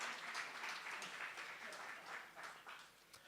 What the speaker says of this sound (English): So can we give a round of applause for Ms. Itumeleng Motlhabane?